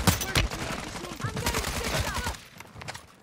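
Gunfire in Warzone 2, a burst of rapid, overlapping shots crackling through the first two seconds, then a few scattered reports, loud and close alongside game noise.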